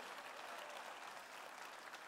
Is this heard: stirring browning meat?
no